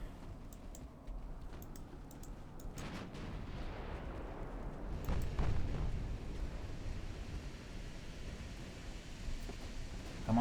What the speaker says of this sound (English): Enemy torpedo detonated.